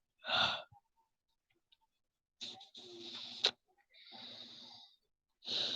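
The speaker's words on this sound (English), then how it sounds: "I have to yawn." A person yawns aloud at close range: a breathy, drawn-out exhalation, then after a pause two more long sighing breaths with a sharp click between them, and a final breath starting at the end.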